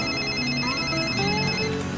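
A telephone rings with a steady electronic tone in a tense indoor scene from a Korean drama, the ring continuing throughout against a busy background, with no one speaking.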